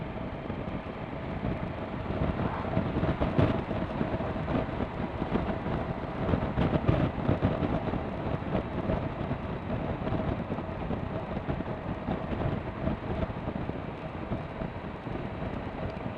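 A 2017 Suzuki V-Strom 1000 XT motorcycle ridden along the B4525 road, its engine a steady droning hum buried under heavy wind rush for the whole stretch.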